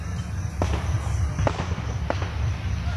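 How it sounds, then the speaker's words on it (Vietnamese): Fireworks going off outdoors in Gia Lai, with a few distant pops and cracks spaced apart over a steady low rumble of background noise. "chỗ này vẫn thấy pháo hoa bạn."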